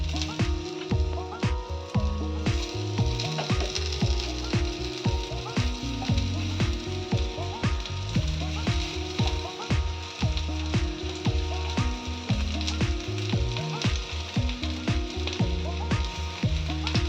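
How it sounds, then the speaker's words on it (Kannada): Halved, washed mushrooms frying on a hot tawa pan give a steady, close sizzle with a loud, dense crackle that runs without a break. Faint clatter of stirring sits underneath, and no one speaks. "ಈಗ ಇಲ್ಲಿ ಕಾವಲಿಯಲ್ಲಿ ಇಟ್ಟೇನೆ, ಅದು ಫ್ರೈ ಮಾಡ್ಲಿಕ್ಕೆ."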